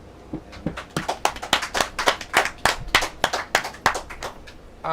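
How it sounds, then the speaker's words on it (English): Crowd applause at a global music press conference for Inner Circle Fest 2021, a dense run of hand claps lasting several seconds, fairly close and loud, rising and falling in irregular bursts. "please give a round of applause"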